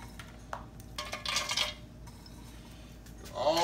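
Toasted pecans clink and rattle into the bottom of a metal cake pan in a few short bursts, close and moderately loud, with quiet gaps between.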